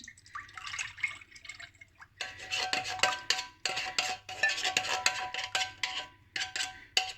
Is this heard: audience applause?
no